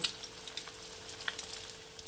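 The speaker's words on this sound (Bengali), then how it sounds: "জাস্ট একটু ভেজে নেব" Egg and potato mixture (Bengali egg muitha made from boiled egg and potato) frying in a pan, a steady faint sizzle with small crackles throughout and no talking.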